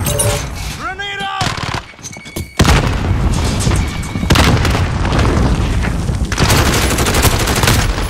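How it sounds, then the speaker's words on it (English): Grenade blast in Modern Warfare multiplayer, a loud booming explosion followed by dense crackling gunfire and debris, with a voice calling out over the chaos before the blast hits. "Grenade!"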